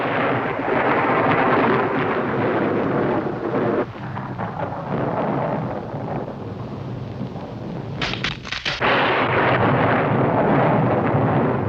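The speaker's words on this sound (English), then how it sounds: "Now we know how to make lightning and thunder." Thunder rolls in a continuous loud, broad rumble that runs throughout, with a brief dip and then a sharp cracking burst before the roar returns, with no voices.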